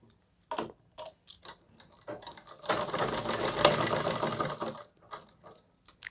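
A sewing machine stitches the curved seam of a round collar on a suit, with short bursts of rapid ticking followed by one long sustained run of stitching, then a few more brief bursts, close and clear.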